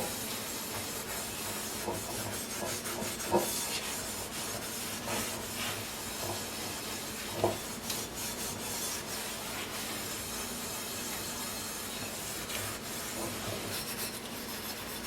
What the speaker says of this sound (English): I'm just gonna use some Dawn dish soap and some 4-aught steel wool. And I'm gonna scrub them real good.